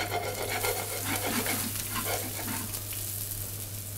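Diced raw potatoes fry in olive oil in a smoking-hot pan, giving a steady close sizzle with soft stirring scrapes and a low hum beneath, no voices.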